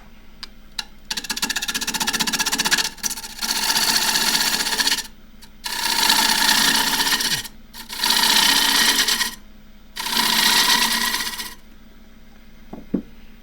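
A wood lathe cuts very dry Tasmanian eucalypt burl in four long rasping bursts separated by brief pauses, a gritty whirring scrape close by with a few faint knocks between passes.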